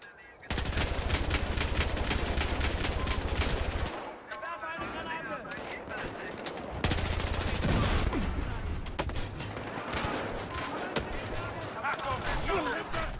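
Dense, rapid gunfire bursts in the Battlefield Hardline shooter, near and loud, with brief pauses between volleys and a voice talking underneath.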